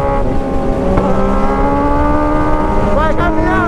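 A truck passes on the road under the constant close roar of a motorcycle engine and wind, its higher drone showing near the end as it goes by.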